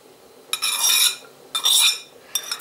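Cooked rice being mixed into minced meat with utensils: three scraping, clinking stirring strokes in short bursts, close by and without talk.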